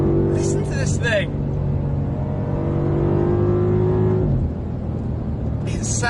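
A BMW M5 safety car engine accelerating on a race track, revving up with rising pitch through a gear change, heard close inside the cabin with someone talking over it.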